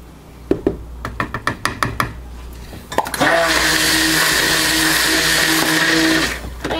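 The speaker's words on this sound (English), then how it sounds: "Clean my stick blender off for the next batch." A series of sharp taps and knocks, then a stick blender whirs on loudly in oatmeal milk and honey soap batter and runs steadily for about three seconds before stopping.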